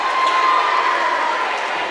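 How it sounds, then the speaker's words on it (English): A loud home crowd at a Brooks vs Hartselle high school basketball game roars, cheers and jeers in a steady, dense wall of sound, with a commentator talking over it. "the Brooks loud crowd is giving Bennett an earful over there"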